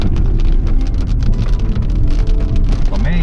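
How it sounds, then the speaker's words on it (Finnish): Heavy rain pours outdoors in Pirkanmaa, Finland, during a cycling trip, a loud, dense, continuous hiss of drops striking surfaces with a deep rumbling undertone throughout. "aletaan saamaan kunnon sadetta"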